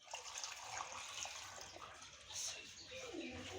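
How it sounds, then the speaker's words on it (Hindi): Water is poured steadily into a pressure cooker holding beef trotters, giving a faint, continuous splashing rush that stays fairly even throughout. "ये पानी डाल देंगे,"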